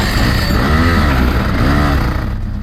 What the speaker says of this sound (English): the engine finally fired.